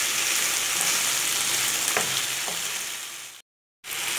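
Shrimp and vegetable sauce with onions simmers in a pan, giving a steady, close bubbling sizzle that runs throughout before cutting to a brief silence near the end.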